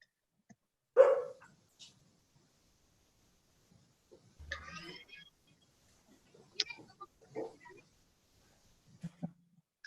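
A small dog barks in the background of an online meeting, a few scattered yaps and whimpers, faint and intermittent against near silence.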